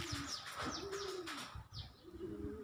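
Pigeons coo in soft, repeated low calls close by, joined by a few higher chirps from other birds, with no talking.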